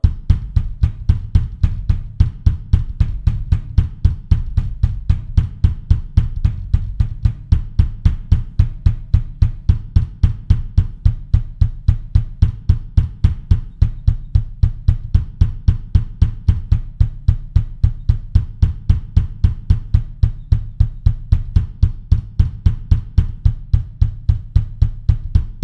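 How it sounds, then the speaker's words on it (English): Bass drum alone plays a double bass drum exercise, a steady, rapid stream of evenly spaced low kicks that continues without a break, loud and close. "So the first one would sound like this with just the bass drum."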